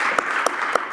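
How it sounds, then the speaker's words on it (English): Applause in the House of Commons, a dense steady wash of many hands clapping with a few sharper distinct claps standing out, close and loud throughout. "Prime Minister Laurier, yes, you can applaud that."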